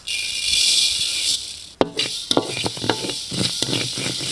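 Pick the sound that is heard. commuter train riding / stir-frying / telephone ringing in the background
stir-frying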